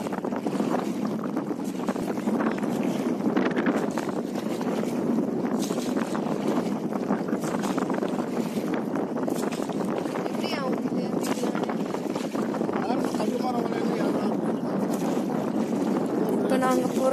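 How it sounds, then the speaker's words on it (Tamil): Paddle boat gliding over water at Muttukadu Boat House, a constant close rush of water and wind noise throughout, with people talking over it. "இப்ப நாங்க போறது பாத்தீங்கன்னா துடுப்பு படகு."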